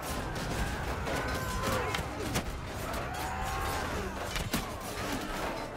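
Gunfire in a Mount & Blade II: Bannerlord battle, scattered sharp shots and thuds over constant rumbling battle noise, with a few distinct louder cracks standing out.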